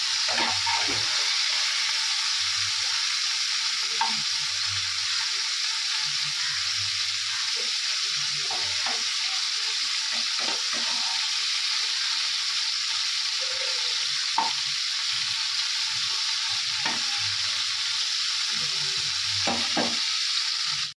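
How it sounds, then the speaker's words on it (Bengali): Continuous sizzling of cauliflower frying in a pan, a dense even hiss with scattered soft scrapes and stirring sounds, no talking. "ফুলকপিটা ভাজা বসিয়ে দিয়েছি, হালকা হালকা একটু ভেজে নেবো।"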